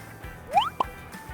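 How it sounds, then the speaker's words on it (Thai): Thick seafood dipping sauce drips and plops as it is poured over fried snakehead fish topped with fried shallots and fried chillies, giving a few close, wet splats in a quiet kitchen. "เราก็จะ ราดด้วยน้ำจิ้มซีฟู้ด"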